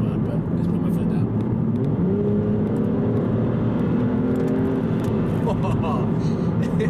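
An Aston Martin Virage accelerates hard on tarmac, its engine a steady loud drone heard from inside the car, with the note rising gradually as it pulls and someone talking over it.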